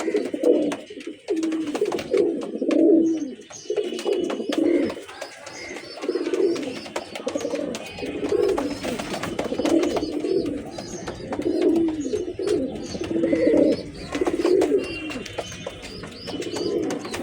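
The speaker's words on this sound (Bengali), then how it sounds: "এগুলো পুরানো লাইনের হ্যামার কবুতর।" An active pair of old-line hammer giribaz pigeons coos loudly and close by, with repeated rolling coos in an uneven rhythm filling the whole stretch.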